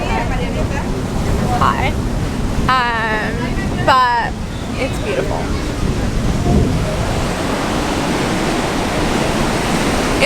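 Ocean waves and surf roll in at a beach where the current is running strong, making a steady, broad roaring wash. Voices speak briefly over the surge, which continues throughout.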